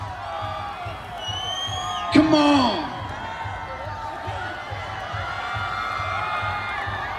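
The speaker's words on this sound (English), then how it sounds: "let's cheer it up for both the team" Crowd at the Hornbill Festival in Nagaland cheering for both teams during a match, a steady murmur of spectators with a brief loud burst of shouting and whoops, while a nearby voice urges them on over the noise.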